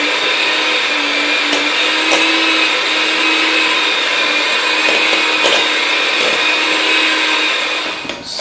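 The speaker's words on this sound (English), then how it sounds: "I'm going to use my electric mixer" An electric mixer whirs steadily through banana muffin batter, a loud, close, continuous motor drone with a slight wavering pitch that holds for several seconds before tailing off at the end.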